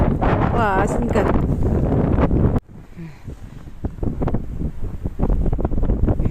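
Strong wind gusts in Labytnangi above the Arctic Circle buffet the microphone with a loud, close roar, cutting off abruptly partway through and leaving quieter, patchy noise where voices talk.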